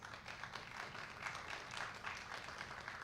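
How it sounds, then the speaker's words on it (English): Audience at a university doctoral research competition applauds the student presenters, a soft, distant patter of many hands clapping steadily throughout. "let's give them another hand of applause"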